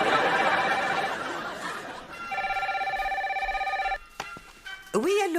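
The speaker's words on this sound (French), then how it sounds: "je ne peux pas répondre moi-même au téléphone" A telephone rings in a home with steady electronic trilling tones in repeated bursts, under overlapping voices and a chuckle, then the ringing stops as a line of speech follows.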